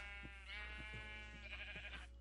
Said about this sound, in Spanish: Señora oveja, venga.